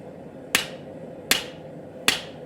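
A hammer strikes a hot cut on an anvil while forging steel for a chef's knife: three sharp, ringing metallic blows evenly spaced, close and loud, with quiet between them.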